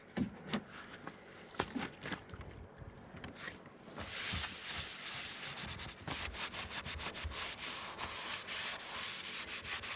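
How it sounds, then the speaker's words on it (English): Repeated sanding of cured epoxy during a rotten-core deck repair on a sailboat: irregular rasping strokes at first, then sustained steady abrasive rubbing, close and fairly loud, with no voices. "epoxy goes off really quick and then you can sand it the same day"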